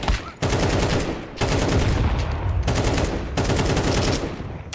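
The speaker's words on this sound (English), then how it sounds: "Your teammate's shooting, I think." Automatic gunfire from a teammate in the Counter-Strike 2 video game, loud, sustained bursts of rapid shots in three long volleys separated by brief gaps.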